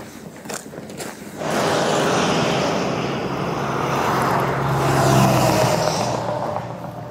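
Cars speeding past at around 140 km/h on a road near Khabarovsk, a loud sustained whoosh that swells after the first second and peaks again toward the end as vehicles rush by close.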